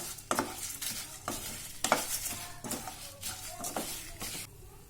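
Chettinad chicken curry masala frying in oil in a pan, a soft continuous sizzle broken by repeated stirring scrapes, close and fairly quiet with no talking.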